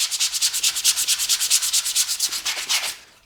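Rapid back-and-forth sanding strokes on a Telecaster guitar body, a steady scratchy rhythm of about ten strokes per second, close and fairly loud, fading out at the end.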